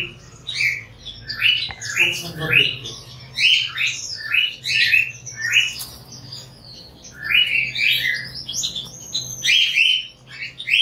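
Cockatiels chirp and squawk busily in an aviary, a dense run of bright, overlapping calls that continues throughout, with a low steady hum beneath and a brief spoken remark near the start.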